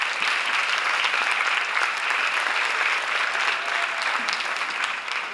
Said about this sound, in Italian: vorrei che voi faceste un grandissimo applauso